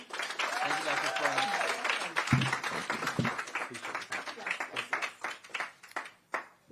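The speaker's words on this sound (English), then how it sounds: "you better all cheer for me as much as you did for Dr. Frommer" Audience at a charity consumer alert event applauds, steady clapping building and then thinning out in scattered bursts over several seconds, with a voice speaking faintly beneath.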